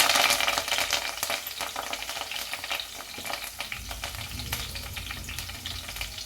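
Onion paste, onions and green chillies fry in a pan with already-fried brinjals for gutti vankaya curry, a close sizzling hiss broken by repeated stirring scrapes and clinks of a spoon against the pan, with no talking.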